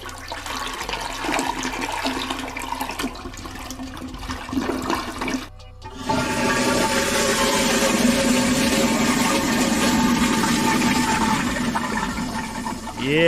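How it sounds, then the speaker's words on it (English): A toilet flushes with a loud rushing swirl of water that starts abruptly after a brief pause and roars steadily close up, preceded by muffled handling noises and faint voices. "One more flush."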